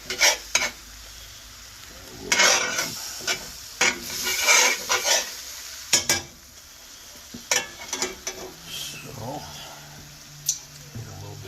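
Beef stir-frying in a hot pan for beef and broccoli, with repeated utensil scrapes and stirring strokes over a steady sizzle, the sizzle softening and changing partway through; a person talks over the cooking.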